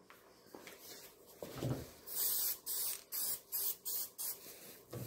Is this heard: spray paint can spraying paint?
yes